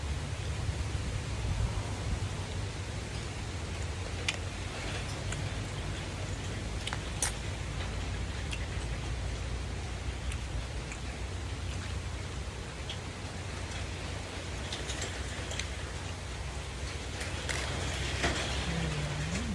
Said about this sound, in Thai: ฝนมีตกอยู่แล้วครับ